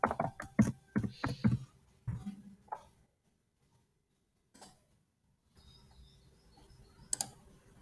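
Password being typed on a computer keyboard during account setup, rapid clusters of close key clicks at the start, then sparse isolated taps after a quiet gap.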